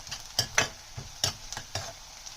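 A vegetable mixture for Sindhi-style egg bhurji fries on a slow flame, soft sizzling underneath a handful of sharp, close scrapes and knocks of a spatula stirring the pan, with no voices.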